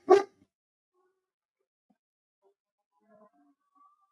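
A single sharp bark from a pet dog at the start, close and loud, followed by near silence with a couple of faint soft sounds later.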